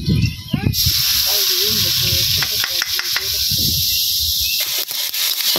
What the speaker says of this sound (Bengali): মশলাটা কষাই নিতেছি